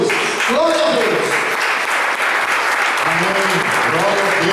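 Church congregation applauding for Jesus during a worship service, steady dense clapping throughout with voices and faint tonal singing or shouts mixed underneath.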